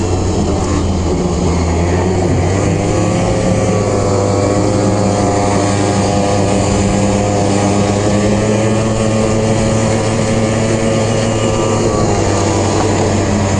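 Arctic Cat Blast M 4000 snowmobile cruising on a trail at a steady mid-range speed, its engine a loud, continuous droning hum with steady harmonic tones and no pauses.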